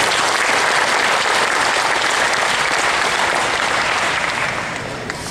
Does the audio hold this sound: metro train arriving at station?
no